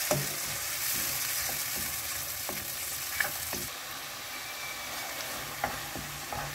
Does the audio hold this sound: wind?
no